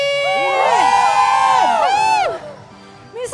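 A church congregation at a Filipino healing service shouts praise together, producing a loud burst of overlapping rising and falling voices that cuts off abruptly, followed by a brief fresh cry near the end.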